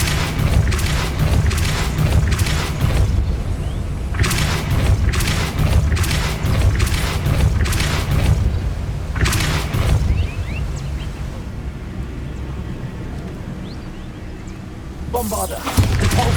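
Repeated booming Bombarda spell blasts in Hogwarts Legacy, loud bursts in close succession with broadband crashes and rumble, over a continuous game soundscape.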